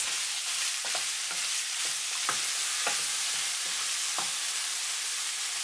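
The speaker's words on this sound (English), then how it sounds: "Then add the carrot, the peas, and the heads of green onions. Stir from time to time for 4 minutes." Carrot, peas and green onion heads stir-frying in oil for soy sauce fried rice: a continuous close sizzle broken by regular scraping strokes of a spatula, no voices.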